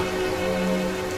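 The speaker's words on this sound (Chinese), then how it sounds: "下雨了" Steady rain falls as a dense, even hiss over a sustained low tonal hum and musical background, with no distinct drops standing out.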